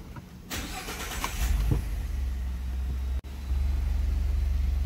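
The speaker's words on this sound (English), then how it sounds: "So here, let's turn the truck on." A Ford F-150 pickup truck starts up: a brief cranking whir, then the engine catches and settles into a steady, close, low idling rumble.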